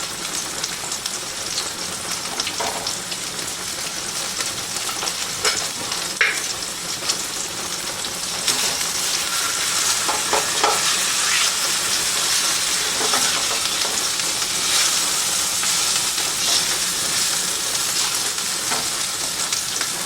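Pork chops fry in a pan alongside pots of rice and beans, giving a steady, loud sizzle and crackle that swells slightly partway through, with no talking.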